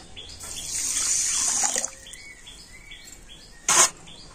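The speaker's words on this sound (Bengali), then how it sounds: "আর ওই একই বাটি মাপ করে আমি দিয়ে দিচ্ছি এক বাটি জল।" Water poured from a bowl onto sugar in a pan for a syrup, a close splashing stream lasting under two seconds, followed by a short second splash, with birds chirping faintly in the background.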